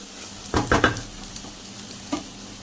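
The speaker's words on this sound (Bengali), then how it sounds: "এই যে টিকিয়াটা ভাজা হচ্ছে" Potato tikki frying in a kadai, a soft sizzle with a few sharp stirring scrapes and clinks from the pan, close and fairly quiet, no talk.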